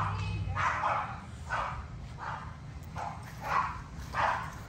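A dog barks repeatedly in a steady series of yaps over a low rumbling background, fairly close, with no clear talk.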